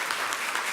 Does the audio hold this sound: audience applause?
yes